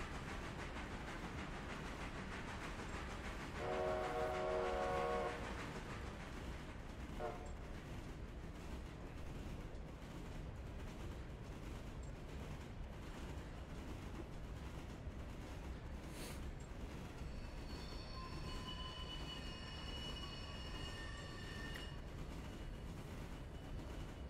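A steady rumble of train wheels and hiss runs throughout in a train simulator video game, with a short whistle blast early on and a longer, higher whistle tone later, no talk.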